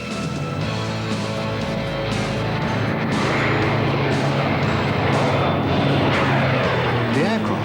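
A Redigo primary and basic trainer aircraft's turboprop engine roars continuously and loudly, a dense broadband drone with a steady tonal whine and a rising sweep near the end.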